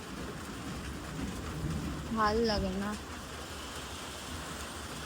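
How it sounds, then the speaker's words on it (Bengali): Steady rain falls outdoors during a long downpour, a constant hiss that fills the whole scene. A person speaks briefly partway through. "কখন যে বৃষ্টি থামবে জানি না"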